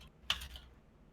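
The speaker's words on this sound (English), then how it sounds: "Don't judge my typing if y'all can hear it." A short burst of computer keyboard typing: a quick cluster of key clacks, close and quiet against a faint background.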